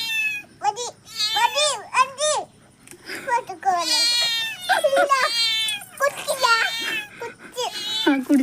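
Cats meow repeatedly, in high, wavering cries, while being fed milk. People, including a young-sounding voice, talk close by between and over the meows.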